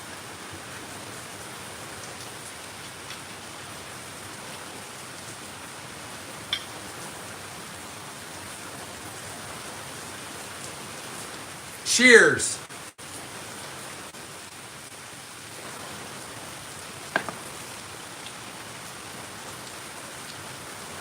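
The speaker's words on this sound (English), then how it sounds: "It's raining pretty hard." Heavy rain falls steadily as a constant hiss throughout, with a brief loud rustle or bump partway through and a voice speaking briefly.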